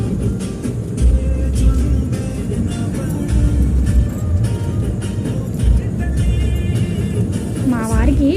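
A car driven on a long road trip rumbles with steady engine and road noise throughout, loud and continuous, with a voice talking over it.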